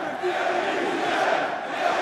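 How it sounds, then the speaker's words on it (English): Crowd roar at an MMA fight arena during an Oktagon free fight, a dense, sustained wash of cheering and shouting with no breaks, loud and enveloping. "Listen to the crowd here."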